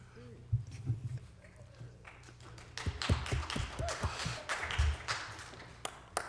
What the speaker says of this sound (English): Is everybody clapping because she's finished?